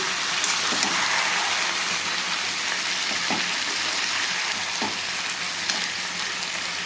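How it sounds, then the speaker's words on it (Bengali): Boiled Malabar spinach stirred into fried spices in a pan, giving a steady wet sizzle and hiss with a few soft scraping knocks throughout, fairly close and continuous with no talk. "এতে এবার এই পুঁই শাকটা দিয়ে দিলাম, দিয়ে এবার একটু খুব ভালোভাবে নাড়াচাড়া করে দিচ্ছি।"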